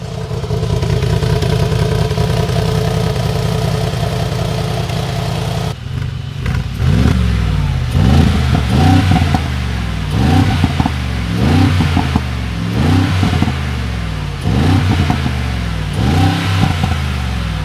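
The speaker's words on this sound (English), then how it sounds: "let's start it up and check out the brutal exhaust sound and revs" A 2022 Mercedes-AMG G63 HOFELE G-Class V8 idles with a steady, deep burble, then its exhaust barks through a run of sharp, repeated revs, each one climbing and falling back, loud and close.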